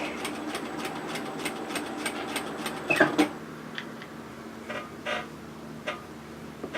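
A home sewing machine back tacks a seam joining a flounce to the front of a beach wrap, a quick regular ticking run of stitches that stops after about three seconds, leaving quieter machine sounds.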